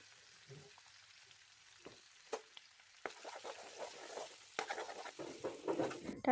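Pork pieces fry in hot oil in a pan while being stirred. Quiet at first, with a few scattered scrapes and clinks, then a growing close-up sizzle broken by repeated stirring scrapes.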